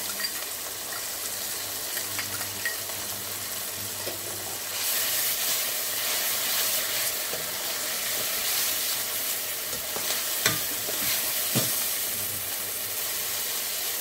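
Garlic-ginger paste and red chili paste stirred and frying in a hot pan, a steady close sizzle with a few louder scraping stirs toward the end.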